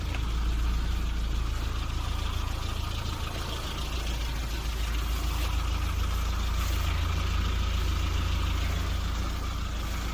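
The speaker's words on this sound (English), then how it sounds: "Just listen to this engine." A Rover Mini Cooper Sport from 2000 sits idling nearby, its engine giving a steady, even drone with a low throb underneath that holds without change for the whole stretch.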